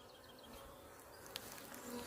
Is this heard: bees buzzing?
yes